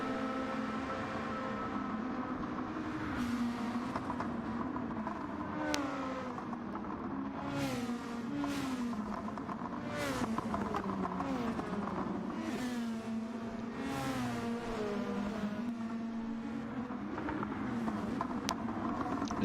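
Touring race cars circle a track during a St Croix 1500 endurance race, their engines rising and falling in pitch as they pass, with repeated revving sweeps and gear changes in a steady, moderately distant stream.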